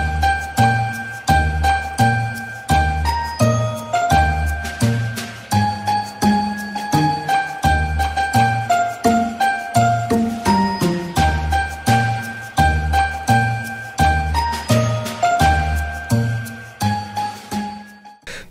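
A Tesla's Santa mode plays a loud, steady jingle of bell-like chimes over a bouncy bass melody, continuing for the whole stretch with no voices.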